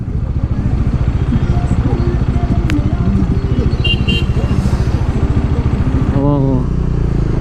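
A Honda motorcycle engine thrums steadily and close at a biker meet-up on a ride from Darjeeling to Ladakh, with a brief horn-like tone near the end and people talking over it.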